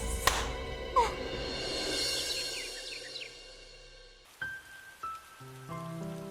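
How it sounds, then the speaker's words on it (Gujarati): Heavy rain pours in a dense, even hiss for about four seconds, then the scene turns quieter with a few knocks and a sustained tone. "આજે તો આ વરસાદ જોરદારનો મંડાયો છે"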